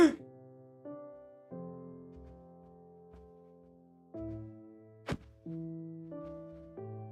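A fist striking an entity in a video game sets off a small explosion, heard as a sharp thud with a brief burst amid soft synthetic game tones, moderately loud and isolated.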